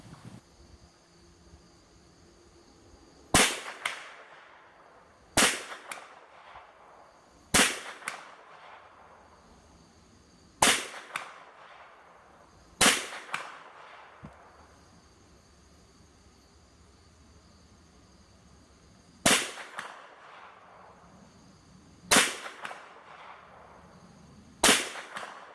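Rifle shots from a 6.5 Swede and a .351 Winchester crack out sharply, eight or so single reports at irregular intervals of a few seconds, each with a short decaying echo over quiet outdoor background.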